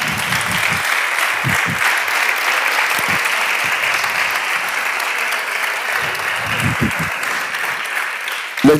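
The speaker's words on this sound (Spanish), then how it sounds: "aplausos, ¿no?" Audience applause at a Blacklladolid literary event, a continuous, fairly loud wash of clapping with occasional low thumps and murmurs underneath, running steadily to the end.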